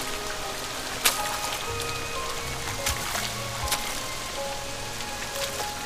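Steady rain patters across surfaces in the game Love & Deepspace, a dense even hiss with a few sharper drops standing out, continuous and close throughout.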